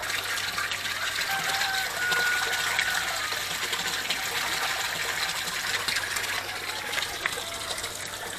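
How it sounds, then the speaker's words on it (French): The pump of a home aquaponics setup returns water to the tank, making a constant rushing, splashing flow that stays steady and fairly loud throughout, with no voices. "La pompe renvoie bien l'eau."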